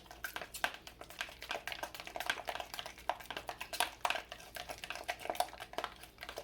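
Rapid light clinking and scraping of a utensil stirring dog-safe cake frosting in a bowl, a busy irregular rhythm close up with no talking.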